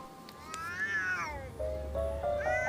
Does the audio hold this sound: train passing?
no